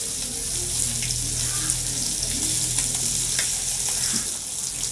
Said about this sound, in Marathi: हे बघा, दुसऱ्या बाजूला असं पलटी करून घ्यायचे आहेत मासा